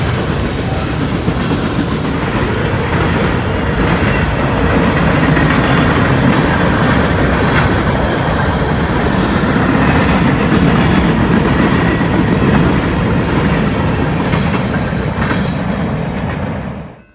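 A BNSF freight train led by a GEVO locomotive rumbles past close by for a long stretch, wheels clattering steadily over rail joints with a loud, sustained roar that fades at the end.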